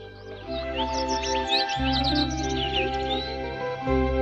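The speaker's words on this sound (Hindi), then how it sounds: "दूर से आती है चिड़िया की आवाज।" Several birds chirp and tweet in quick, overlapping bursts in an outdoor garden setting, set against a steady low hum that briefly drops out and returns; no one speaks.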